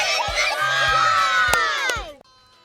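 Kids at an indoor basketball session shout and cheer together in a loud, sustained burst of high voices with a few thumps underneath, cutting off abruptly near the end.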